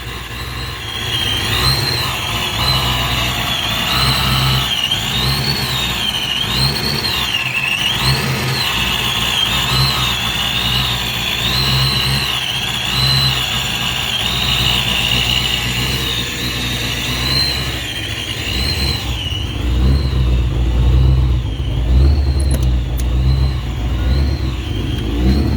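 A supercharged Saleen Mustang engine runs loud and close with a steady, throbbing rumble, its supercharger whine rising and falling in repeated surges as the revs climb and settle over a sustained idle-to-rev cycle.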